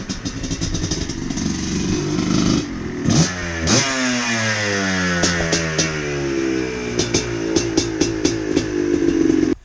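A Yamaha Blaster two-stroke ATV engine approaches and revs hard, its buzzing raspy note climbing and falling through repeated throttle blips, loud and close, alone without talk.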